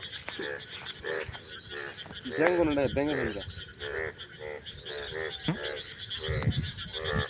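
Frogs croak in a dense chorus of repeated pulsing calls at night, near and loud, with a voice speaking partly over them.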